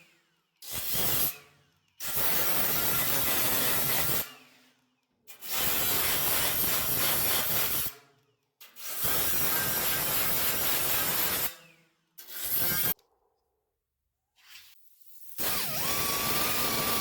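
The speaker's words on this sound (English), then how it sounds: "And then we're going to come back with a flap wheel. Dress it down a little bit more." A flap wheel dresses down welded metal bodywork on a 1964 Chevrolet Impala SS, a loud, close grinding rasp in about six bursts of one to three seconds each, separated by short silences, with no talk.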